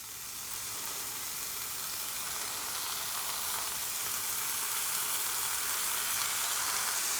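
Bacon sizzles and fries in a hot cast iron skillet, a steady, dense crackling hiss that builds slightly louder and carries on without pause, close and alone with no voices.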